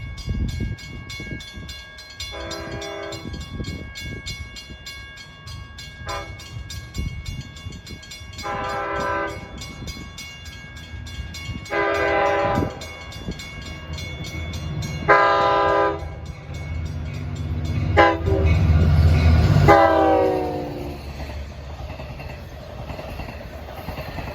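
A Long Island Rail Road Montauk Branch train sounds its 190th Anniversary horns: DM30AC locomotive 510 leads and 520 trails, with eight cars between. Several loud chords of horn blasts come at intervals over steady rumbling and clacking wheels as it passes nearby.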